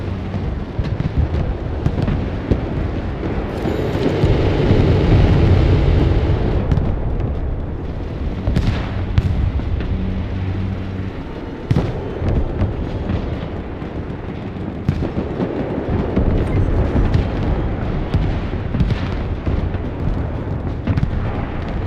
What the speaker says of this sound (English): This is the tactical outplay, guys, where you just use rockets.